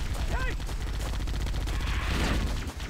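Rapid machine gun fire in Halo: The Master Chief Collection, a dense and unbroken rattle of shots lasting about three seconds, loud and close, with a brief vocal-like tone near the start.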